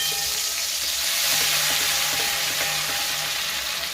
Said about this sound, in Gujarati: આ ઓઇલ ગરમ થઈ ગયું છે। આપણે એમાં નાખીશું આ મરચાની પેસ્ટ